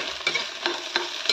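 Food being stirred and fried in a pan while cooking egg and potato fries at home, with a steady sizzle and several scraping strokes of the spatula recurring at about even intervals, close and fairly loud.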